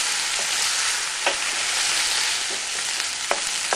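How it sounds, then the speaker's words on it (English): Pork chops fry in a pan with salt and pepper added, a steady broadband sizzle running throughout with a few faint scrapes and clicks as they are stirred. "Give it a quick stir."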